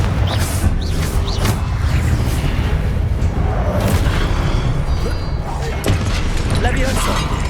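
Confringo spell explosions and combat booms in Hogwarts Legacy come in loud, continuous bursts and rumbles, with a person shouting spell names over them.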